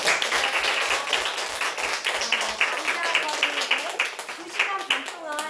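An audience claps after a lecture at an academy's admissions information session, a steady spatter of many hands that thins and softens toward the end, with a voice speaking over it.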